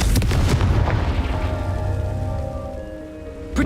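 A fiery explosion spell goes off in the Hogwarts Legacy video game, a loud booming burst with rumbling debris that decays over a few seconds, followed by a fresh impact at the end.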